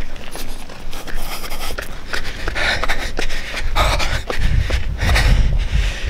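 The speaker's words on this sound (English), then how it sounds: "I'm already breathing hard." Heavy, rapid breathing from someone walking a trail at Point Pinole, close to the microphone, with rustling and scraping handling noise and footstep thumps growing stronger near the end.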